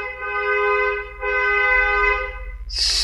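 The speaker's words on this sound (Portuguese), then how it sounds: "o cara passou buzinando aqui" A car horn honks in long sustained blasts from a passing vehicle on the street, fairly loud, followed by a brief whoosh of the car going by.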